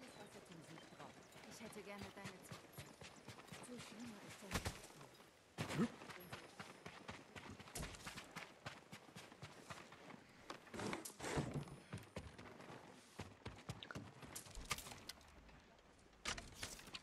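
A horse's hooves in Ghost of Tsushima, with soft, irregular clip-clop steps and scuffs against scattered game effects, while someone talks over them throughout.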